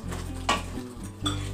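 Aloo dum potatoes are stirred in a cooking pan, giving a soft sizzle with a few scraping clinks of the spoon against the metal. The sound is faint, close and brief, with no talking.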